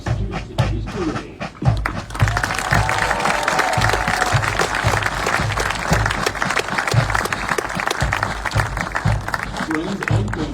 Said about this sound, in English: Please give a warm round of applause for our military training instructors who organized and executed today's parade